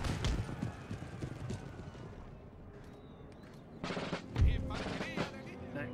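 Light cavalry horses trot amid musket volleys in an Empire: Total War battle, with hoofbeats running throughout and a burst of sharp gunfire near the end over a dense battlefield din.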